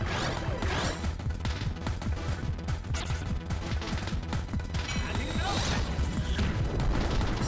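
Hunting Cannon attack in the Digimon World 2 video game: a dense, loud barrage of booming, crashing blasts with mechanical clatter, sustained and unbroken across the whole stretch.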